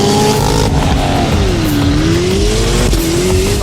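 A Corvette ZR1 engine revs and accelerates hard, a loud, close roar whose pitch climbs, dips between shifts and rises again, with a snarling exhaust tone and no talking.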